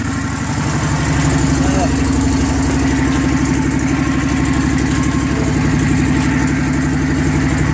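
A yard tractor engine idles after a jump start, a loud, steady low rumble with an even throbbing pulse that settles in close and continuous.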